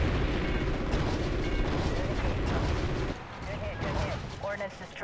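Heavy ordnance explosions and gunfire roar in a Call of Duty: Ghosts battle, dense and loud for several seconds, then easing into scattered blasts with some voice chatter mixed in.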